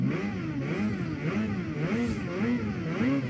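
A car engine in the video game Forza, on a touge course at the start of a race, revs repeatedly in rising and falling surges, loud and close, with no voices.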